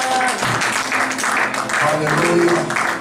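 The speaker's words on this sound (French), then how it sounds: "Je crois que vous allez applaudir." Church congregation clapping and applauding during a bilingual English-French sermon, a steady broadband wash of many hands lasting throughout, close and fairly loud, with voices mixed in.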